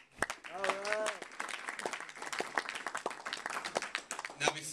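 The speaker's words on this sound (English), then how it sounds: "please give yourselves a round of applause" Comedy club crowd applauding after a stand-up comic asks them to give themselves a round of applause, a dense burst of clapping with some cheering and voices mixed in, steady throughout.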